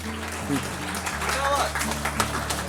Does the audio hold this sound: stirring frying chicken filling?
no